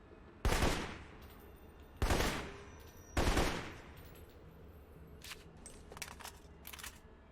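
Three loud, separate gunshot bursts from a weapon in the video game Alpha Protocol, spaced about a second apart, each with a short decaying tail. Quieter mechanical clicks and clatter follow, like handling or reloading.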